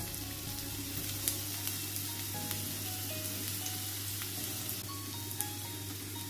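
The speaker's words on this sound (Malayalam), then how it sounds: "ഇനി ഇതിൻ്റെ പച്ചമണം മാറുന്നവരെ നന്നായിട്ടൊന്ന് വഴറ്റിയെടുക്കാം" Chopped ginger and garlic sautéing in hot oil for a okra and egg stir-fry, a steady soft sizzle with faint occasional clicks of a spoon, heard close and alone.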